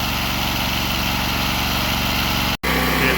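A Predator 670 engine drives a pressure washer at full throttle, a loud, steady, close droning hum with a brief drop-out near the end before the drone resumes.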